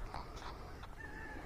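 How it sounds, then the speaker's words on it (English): Chickens on a small family farm near Key West, a soft brief cluck and faint fowl calls over a quiet outdoor hiss, distant and low in level. "There's chickens and geese and"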